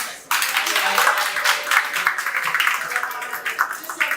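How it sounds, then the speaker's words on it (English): An audience at a Sydney stage event breaks into a round of applause, starting suddenly and loudly, then thinning into uneven bursts of clapping that gradually taper. "Can you please give the person next to you a round of applause?"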